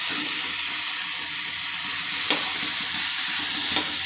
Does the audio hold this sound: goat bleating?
no